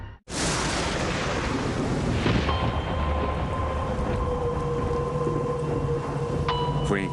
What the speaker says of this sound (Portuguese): De repente eu ouvi um estrondo de trovões